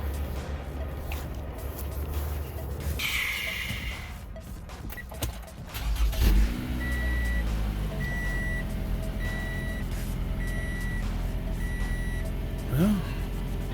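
A 2015 Toyota RAV4 with brand-new spark plugs after a tune-up cranks and catches about midway, then settles into a steady, close idle, with a repeating electronic chime over the engine hum.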